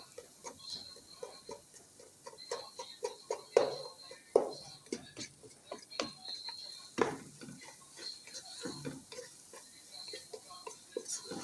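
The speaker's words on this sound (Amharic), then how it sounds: "ከዛ በደንብ አቁላላለሁ።" Food being sautéed and stirred in a pan in a home kitchen, with repeated scraping and tapping of a utensil against the pan over a faint sizzle, uneven clatters spread throughout, fairly quiet and close.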